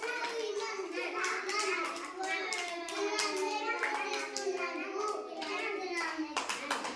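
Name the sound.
children clapping hands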